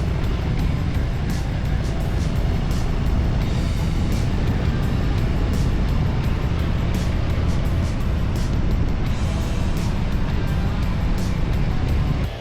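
A car at speed on the Autobahn with racing luggage aboard gives off a constant loud roar of engine, tyres and wind, steady and unbroken from start to finish.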